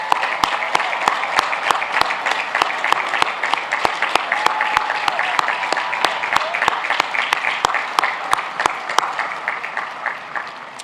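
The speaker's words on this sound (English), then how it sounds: "Please join me in recognizing these outstanding students with a round of applause." A graduation ceremony audience applauds steadily and loudly for the full stretch, a dense wash of many hands clapping in a large hall, tapering slightly toward the end.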